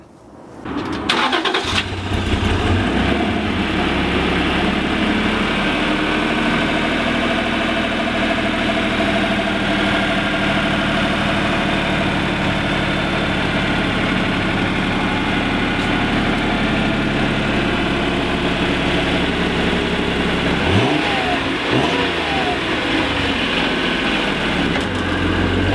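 A 1991 Acura NSX engine turns over and settles into a steady idle with light revs, a loud, close, continuous mechanical hum lasting the whole stretch with a brief change near the end and no talk.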